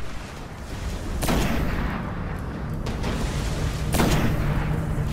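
A sniper rifle fires in the Destiny video game: two heavy booming shots, about three seconds apart, each trailing into a long rumbling decay over a constant loud background roar.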